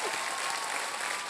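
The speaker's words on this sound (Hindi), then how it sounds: "आप लोग सब खड़े होके इनके 1 रुपए के लिए ताली बजाएंगे।" Brief burst of dense, steady clapping from a standing studio audience on a televised game show, even and continuous for the whole moment.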